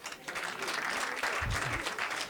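Applause from an audience at a Kinyarwanda comedy show, dense and sustained clapping throughout with a brief swell midway, steady and fairly close.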